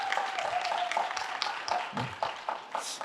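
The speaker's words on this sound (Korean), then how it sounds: "박수 한번 부탁드립니다." Audience clapping at an AI conference session, a sustained patter of hands over about three seconds, with a few louder individual claps near the end.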